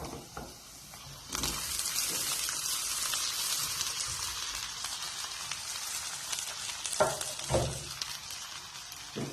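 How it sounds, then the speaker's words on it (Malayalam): Cooked green gram gets stirred into a hot pan, a continuous hissing sizzle with a few wet scraping stirs near the end, close and moderately quiet with no voices. "നന്നായിട്ട് ഇളക്കി കൊടുക്കാം"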